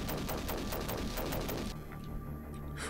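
Rapid automatic gunfire from the Sega CD game Demolition Man hammers out in a dense burst of repeated shots, then stops abruptly into a quieter hum, with no talk.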